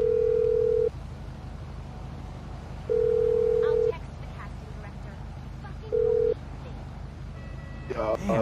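Ringback dialing tone from a phone call in GTA 5 Online, sounding as three long steady beeps with gaps between them over low background hum, followed by a short burst of a voice at the end.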